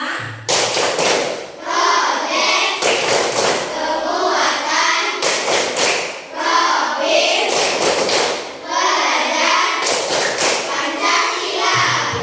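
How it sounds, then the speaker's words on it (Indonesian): Children in a classroom clap out the P5 rhythm in loud, repeated bursts of hand claps and thumps, with chanting voices between the beats. "Coba tepuk P5"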